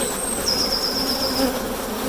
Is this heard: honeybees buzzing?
yes